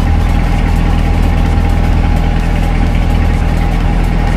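A 2021 Chevrolet Corvette engine and exhaust hold a loud, steady idle with a deep rumbling drone that stays constant throughout, with no voices.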